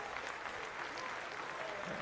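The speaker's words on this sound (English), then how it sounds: "how about a round of applause from both sides?" Steady applause from a crowd at a high school baseball championship game, in an IHSA Class 3A state final. It forms a continuous wash of clapping at a distance, with no clear voices on top.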